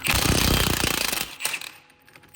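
Impact wrench spinning off the strut center nut during a lift kit install on a Honda Acty mini truck, a loud rapid hammering burst for about a second, then a shorter rattle and quiet.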